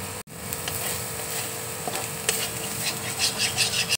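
Ground spices, turmeric and chopped green chili fry in hot oil with a dense, steady hiss and light stirring rubs, close and unbroken apart from a brief cut near the start.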